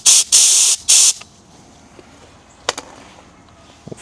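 Three loud bursts of compressed air blast in quick succession to clean out a port on a Stihl BG55 leaf blower, followed by a few faint clicks and taps.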